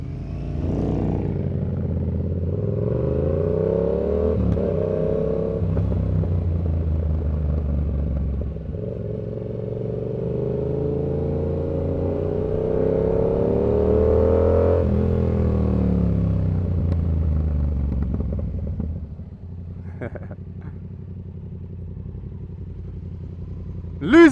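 Yamaha R7 motorcycle ridden through London traffic, its engine droning steadily and rising and falling with gear changes, loud and close throughout, easing to a lower hum near the end.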